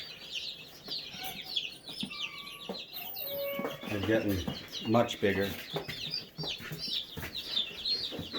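Turkeys, guinea hens, ducks and chickens cluck and chirp in a farm enclosure, a steady scatter of close bird calls with people talking over them throughout.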